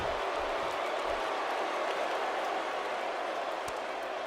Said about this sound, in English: You can hear the crowd here in Charlotte not liking what's happening so far in this matchup.